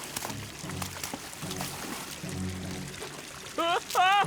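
Water runs from a tap in a Fireman Sam cartoon, a steady pouring and trickling wash under intermittent speech, with an animated voice breaking in near the end.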